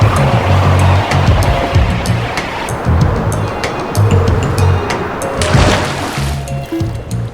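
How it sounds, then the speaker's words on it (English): A splash into water in the video game GTA San Andreas after a parachute jump, heard as loud, continuous surf-like rushing and sloshing with a brighter burst of spray near the end, no voices present. "What happens if you parachute into water in San Andreas?"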